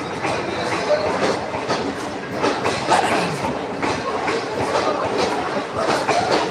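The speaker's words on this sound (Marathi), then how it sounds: "बघा आपली ट्रेन चाललेली आहे मुंबईच्या दिशेने" A train heading toward Mumbai rolls past close by, a loud, steady rumble with rhythmic clickety-clack of wheels on rail joints running throughout without pause.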